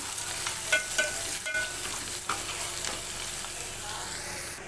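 Turmeric, salt and ginger-garlic paste stirred into hot oil in a pan, giving a continuous close sizzle broken by a few scraping strokes of a spoon. No one talks.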